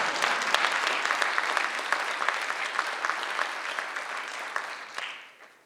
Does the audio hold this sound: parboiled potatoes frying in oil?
no